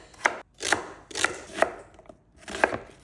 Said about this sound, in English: Let's start by roughly chopped our vegetables.